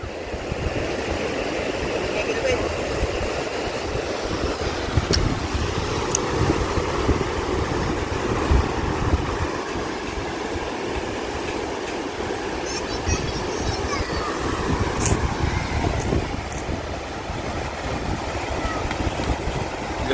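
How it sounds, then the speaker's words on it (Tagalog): Strong southwest monsoon wind and big sea waves give a continuous, loud, rumbling roar of gusting air and breaking surf that stays dense and unbroken throughout, with no voices. "Lumaki ang alon, malakas ang habagat, kaya walang laot."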